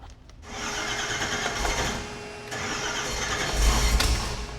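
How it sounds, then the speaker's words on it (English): A Chevy 454 big-block V8 with a Pertronix Flamethrower ignition and Igniter 3 module cranks briefly, then catches and runs loud and rough, the engine roar swelling and holding for several seconds. "To fire off our 454, we're relying on this Pertronix flamethrower equipped with the new Igniter 3 module and a built-in adjustable rev limiter."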